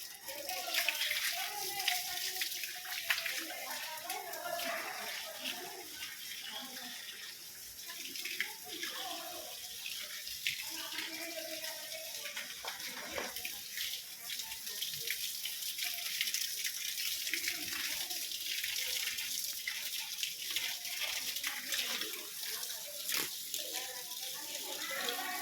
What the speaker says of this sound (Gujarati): અત્યારે કેળને ફૂલ છોડને બધાને પાણી પાવાનું ચાલુ છે